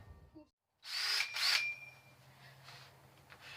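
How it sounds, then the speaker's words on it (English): A power drill fitted with a hole saw bites into a plastic barrel, giving a loud whirring burst of about a second that eases into a quieter grinding cut, all close by. "try and center it and drill the right size hole"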